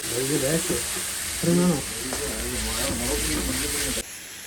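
Small pieces of pressure-cooked mutton with pepper and turmeric powder are stirred in a hot pan for biryani. A continuous close sizzle runs under a voice, with scraping stirs throughout.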